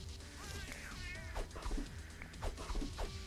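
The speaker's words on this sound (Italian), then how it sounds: "I gatti stanno litigando una bellezza, Nerina" Cats fighting in a Castle Crashers game, loud overlapping meows and wailing caterwauls that rise and fall in harsh bursts, with a dense low rumble of game sound underneath and no talking.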